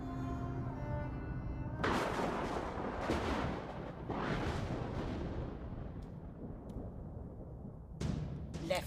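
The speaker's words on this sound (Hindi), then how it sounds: "मार दी सारी गोलियां उसकी छाती में।" Gunshots ring out in a movie scene, several loud booming bursts with echoing tails over a dense rumbling background, followed by a final sharp blast.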